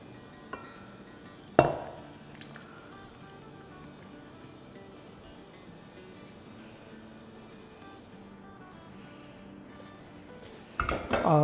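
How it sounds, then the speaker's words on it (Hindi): Potato curry (aloo ki sabzi) being served into a dish, with a sharp single clink early on, quiet scraping in between, and a burst of utensil clatter against the dish at the end. "तो चले डिश आउट करते हैं।"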